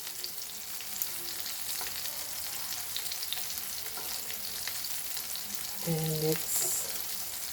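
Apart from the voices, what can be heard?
breadcrumb-coated rock crab claws frying in a pan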